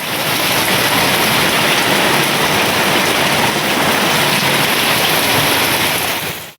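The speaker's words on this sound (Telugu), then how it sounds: "జోరుగా వర్షం కురిసింది" Heavy rain pours down in Hyderabad as a dense, loud, unbroken wash of noise that holds steady for several seconds before cutting off abruptly.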